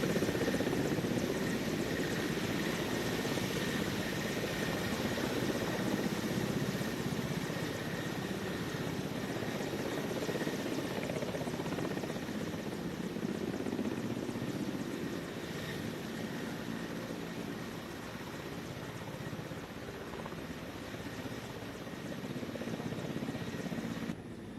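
Indian Air Force Mi-17 helicopter in flight, a steady continuous rotor and engine drone that stays loud and unbroken throughout with a faint whine above it, no voices.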